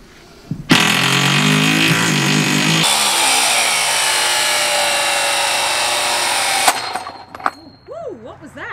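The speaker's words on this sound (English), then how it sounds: "now I'm actually going to drill through the steel" A loud, sustained power-drill whine grinding steadily through 1-inch steel for several seconds, with an abrupt start and stop, then brief quieter sounds afterward.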